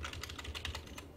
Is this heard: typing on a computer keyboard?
yes